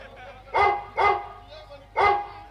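A dog barks three times in loud, close, evenly spaced yaps, with a low hum underneath.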